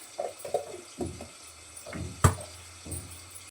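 Water is poured into a chilli and peanut mixture in a kitchen before grinding, with soft intermittent splashes and trickles and one sharper clatter midway, heard close up with no talk.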